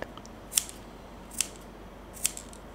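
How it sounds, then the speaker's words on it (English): Scissors snip through fabric while cutting around a curved edge for a hair bow with long tails, three crisp, quiet, evenly spaced snips with no talking. "This is a little curvy line, so I just cut it and clip around the curvy part."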